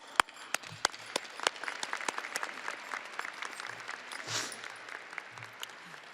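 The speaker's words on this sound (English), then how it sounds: "please extend your applause to those who have assisted us" Graduates and guests applauding at a winter commencement ceremony, steady distant clapping from a large hall with sharp individual claps standing out, fairly quiet overall and with no talking.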